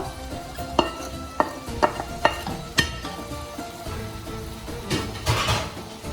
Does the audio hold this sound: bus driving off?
no